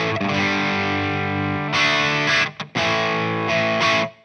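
Low-gain crunch from an electric guitar through an overdrive pedal, MOOER Hustle Drive or Fulltone OCD, set near minimum drive: a sustained chord rings out, then a few shorter chopped strums with brief gaps, loud and close.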